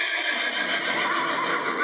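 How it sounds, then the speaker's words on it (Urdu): A horse neighs in a long, loud whinny, heard close and alone without talk. "گھوڑا. جی بھائی یہ گھوڑا ہے یا ہارس ہے؟"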